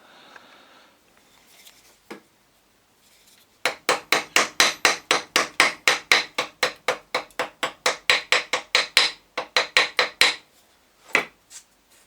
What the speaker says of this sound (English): I'm using a welding rod and smash the flux off